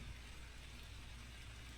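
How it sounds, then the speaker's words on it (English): Heavy rain pours steadily in the woods during a repair on a John Deere 450B dozer, a dense, even hiss of drops hitting the ground and surfaces that fills the short stretch without voices or pauses. "it's now dumping rain"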